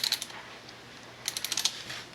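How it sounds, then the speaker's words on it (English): Computer keyboard keys tapped in two short bursts, a few quick clicks at the start and a denser run of keystrokes near the end, quiet and close with a pause between. "So I can type in whatever"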